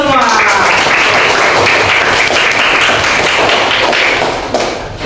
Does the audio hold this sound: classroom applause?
yes